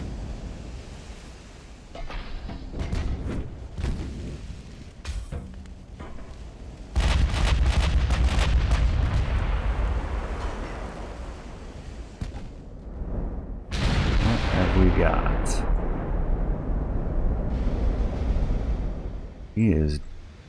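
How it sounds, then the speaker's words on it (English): Heavy 15-inch naval gunfire in the warship game Ultimate Admiral: Dreadnoughts, booming impacts and roaring blasts that swell into sustained rumbling surges like surf, with a voice talking over parts of it. "we take another 15-inch hit from the Majestic again"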